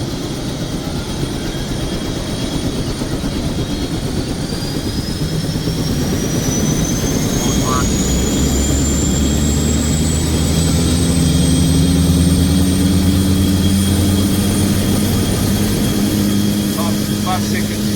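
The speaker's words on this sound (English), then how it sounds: "Okay, opening the throttle, fading start on engine 2," A Bell 430 helicopter's number 2 turbine engine hot-starts with a rising whine and a deepening roar, loud and close, building steadily over the length of the clip.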